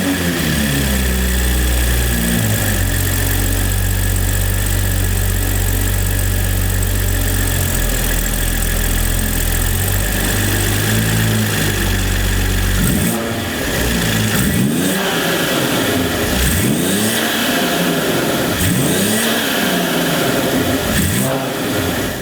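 A BMW G20 M340i's B58 inline-six with an aftermarket MST intake idles steadily and loudly, then from about halfway through blips through several sharp revs that rise and fall in quick succession.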